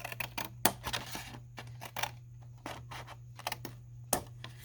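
Scissors cutting partway through a stack of playing cards, a series of crisp snips and clicks spaced irregularly, close and fairly quiet, with a faint steady hum beneath.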